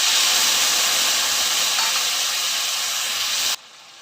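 Cumin, chili and ginger hit hot oil in a pan, a loud, bright frying sizzle that hisses steadily for about three and a half seconds, then drops abruptly to a faint simmer.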